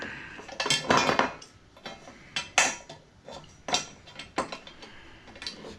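An oversized adjustable wrench tightening a pipe fitting during backyard plumbing at a century-old house produces a series of sharp metallic clanks and ratcheting clicks, irregular and close, some louder than others.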